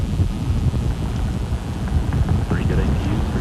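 During the 1988 STS-26 launch, the three main engines of Space Shuttle Discovery roar at 104% thrust, a continuous rumbling, crackling blast, with radio voices faintly under it.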